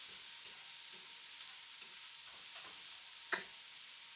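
Shallot and garlic fry over lowered heat in a pan with a faint, even hiss. A single brief clink comes near the end.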